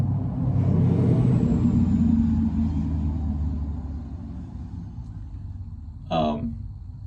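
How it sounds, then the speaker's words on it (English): A truck drives past outdoors near a boat ramp, its heavy engine rumble loud at first and slowly fading as it moves away, with a short sharp squeal near the end. "Truck's coming by again."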